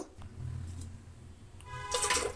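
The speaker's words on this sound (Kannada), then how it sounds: "ಮೂರು ಚುಮ್ಮು ನೀರು ಹಾಕಿದ್ದೀನಿ" Water splashes and gurgles steadily into a vessel, a soft low rush that brightens and grows louder near the end.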